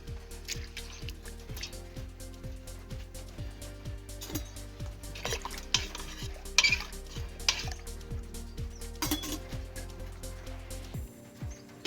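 Green banana boiled in a covered rice cooker with rice is stirred: repeated clattering scrapes and knocks of a utensil against the pot over a steady low hum, fairly close, with no talking.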